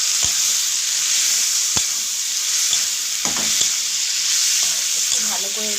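Tomato, ginger and onion frying in a pan give a constant bright hiss and sizzle, broken by a handful of crisp spatula knocks and scraping strokes, heard up close without talk.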